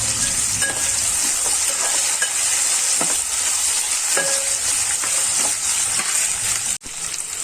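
Chillies sizzling and frying in a pan of hot oil while cooking drumstick dal, a steady crackling hiss throughout with occasional light stirring clinks, close and fairly loud, no talking.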